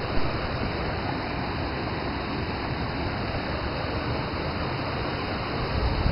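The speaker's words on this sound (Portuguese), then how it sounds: "Mais água." Abundant water rushes in a constant, dense roar at a natural site in São Thomé das Letras, loud and unbroken throughout with no voices.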